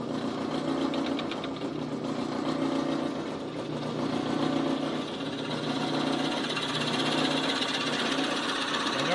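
A steady mechanical whir of a drill boring continuously into purple heart wood, loud and close, with a rough rattling texture and no talking.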